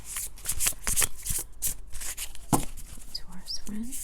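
Tarot cards are shuffled and drawn by hand, with a rapid series of close, crisp riffles and soft slides followed by quieter card handling and light rustles.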